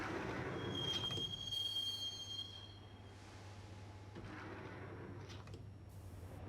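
Interior of a subway train in Max Payne: a sharp squeal of wheels on rails at the start, then a steady low rumble of the moving car with faint clanks later on, no voices.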